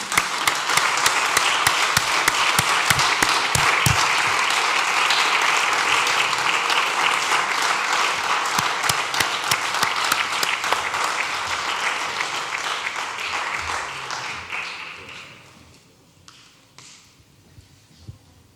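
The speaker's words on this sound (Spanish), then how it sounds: "le doy un doble aplauso y le invito a subir" An audience at a poetry and music gathering breaks into sustained, dense applause that holds steady for a long stretch, then thins out into a few scattered claps.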